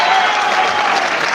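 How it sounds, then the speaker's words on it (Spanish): A large crowd at a political lecture event in Mexico gives loud, dense, continuous applause to welcome a speaker, a close, full wash of clapping with faint voices mixed in. "ya le damos un fuerte aplauso y un recibimiento"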